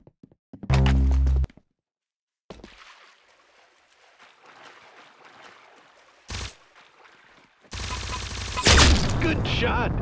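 Video game gunfire bursts out in loud, separate blasts: a sharp shot early on, a brief crack midway, then a sustained heavy volley at the end, with quieter game sounds in between.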